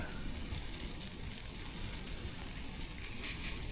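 Food sizzling hard on a hot grill as it chars before being flipped, a steady, loud, close hiss that fills the whole stretch with no voices.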